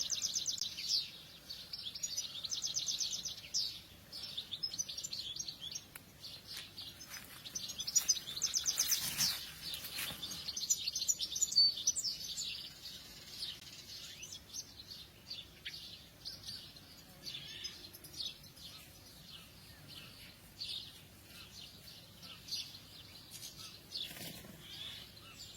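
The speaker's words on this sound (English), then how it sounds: "I'm being very quiet and letting you listen to the birds" Birds chirp and sing outdoors at sunrise, steady high twittering calls from several birds at a moderate distance, with brief louder bursts and no talking.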